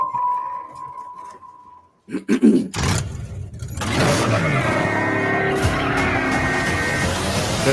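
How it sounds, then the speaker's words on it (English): Tires squeal from an old car, around eighty years old, spinning donuts in a Ghostbusters trailer. The squeal follows brief thumps and starts loud, holding steady against a roaring engine and screeching rubber. "this car is like 80 years old at this point, still ripping donuts"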